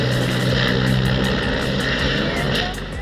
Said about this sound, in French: Cet hélicoptère était censé livrer le président de la Bolivie, Evo Morales, mais il a connu un dysfonctionnement immédiatement après le décollage.